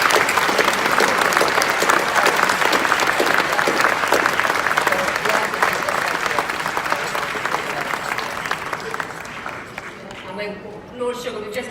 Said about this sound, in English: Could you everyone please give a big round of applause for Lord Sugar?